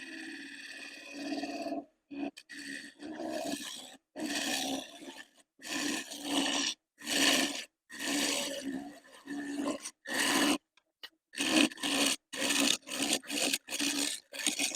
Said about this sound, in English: And still using the spindle gouge.